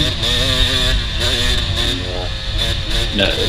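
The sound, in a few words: motorcycle engine revving in fifth gear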